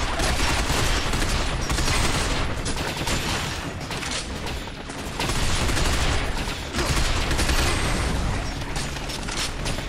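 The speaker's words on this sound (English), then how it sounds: "So now there is just a ton of bullets flying." Gunfire rattles nonstop through a Binary Domain firefight, with dense automatic bursts and overlapping shots forming a loud, unbroken wall of noise over about ten seconds.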